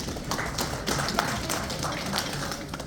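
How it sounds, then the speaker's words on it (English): Clapping from an audience at an engineering conference in Jamaica, uneven and somewhat sparse, moderately loud in a room, with no voice over it. "Everybody give a round of applause, please"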